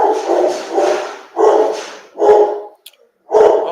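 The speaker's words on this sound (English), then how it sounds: "let me check on that dog" A dog barks nearby in a run of five loud, separate barks with short pauses between them, one brief click in a gap, no talking.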